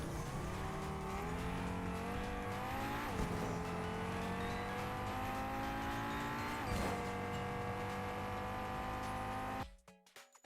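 A Fortnite car body, a 1,500 V-Bucks cosmetic, revs loudly in the game with its engine pitch climbing in steady waves and tires squealing, until it cuts off abruptly near the end.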